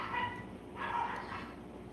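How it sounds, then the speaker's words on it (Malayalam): A dog at home gives two short, moderately distant yipping barks about a second apart over a quiet background hum. "പട്ടിയുടെ ഉണ്ടല്ലേ മൂന്ന് പട്ടിയുണ്ട്"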